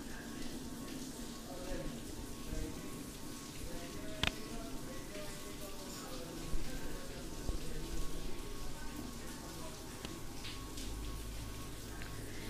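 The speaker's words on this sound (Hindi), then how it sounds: "और सुबह से बारिश हो रही है" Steady, soft rain hisses in the background, a constant wash of patter with a few louder drips, faint voices underneath.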